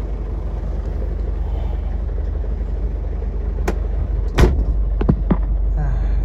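The door of a 1997 Land Rover Defender 110 Tdi being opened over a constant low diesel rumble, with a few sharp metallic clicks and clunks close by near the end.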